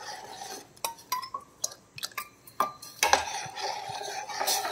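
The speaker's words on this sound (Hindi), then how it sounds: "अब इसमें जो हमने ये घोल बनाया था इसको मिक्स करके हम इसमें ये थोड़ा थोड़ा करके डालेंगे और साथ साथ इसको चलाते रहेंगे" A spoon stirs milk custard, thickened with sama flour for a Navratri fruit custard, in a pot: repeated sharp metallic clinks and scrapes against the pot come at an uneven pace, close up, with no voices.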